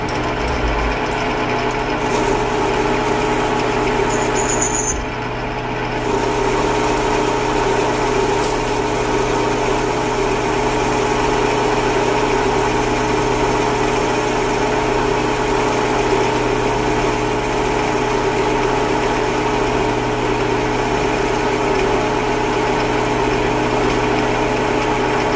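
A metal lathe faces off a rough workpiece held in its chuck, giving a steady, loud mechanical hum with a brief dip partway through and no speech.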